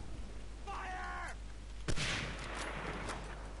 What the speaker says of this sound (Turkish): Bu silah sesleri bizim birlikten geliyor.